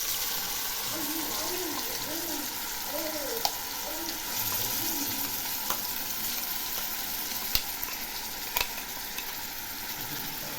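Coriander leaf paste sizzling in oil with sliced garlic and nigella seeds, a steady frying hiss with occasional stirring clicks, close up, while a voice speaks briefly in the background.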